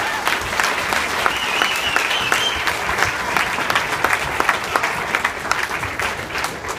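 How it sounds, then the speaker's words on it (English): Sustained applause from a school PTO welcome-evening audience, dense steady clapping filling the hall for several seconds with a faint murmur of voices underneath. "let's give these ladies up here another big round of applause"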